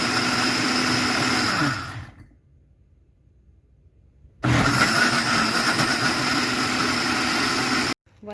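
A blender whirs loudly, blending pumpkin puree with coconut milk, then stops for a few seconds of near silence before roaring back at full speed and cutting off abruptly at the end.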